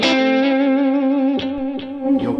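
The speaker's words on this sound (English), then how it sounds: "you'll catch the extra reverb on there as well" Vox Valvetronix VTX150 Pro Neodymium guitar amp with a reverb effect on a sustained, slightly distorted guitar chord, followed by a couple of softer plucked notes that trail off into a spacious reverberant wash.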